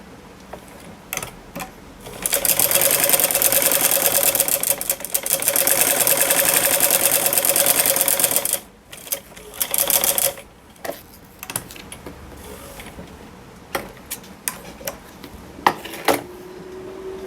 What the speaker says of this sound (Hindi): आगे भी हम अब इसी तरह से सिलाई लगाएंगे